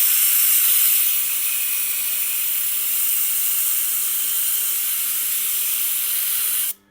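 A Tormek diamond truing plate flattens a sharpening wheel with a steady, close grinding hiss that runs evenly throughout, then stops abruptly near the end.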